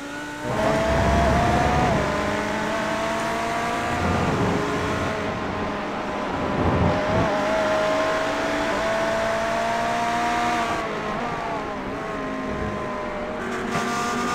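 Race car engines in iRacing's endurance event at Road America whine and climb through the gears, a Ferrari launching hard among them, with a sustained loud roar and pitch shifts as the cars accelerate together.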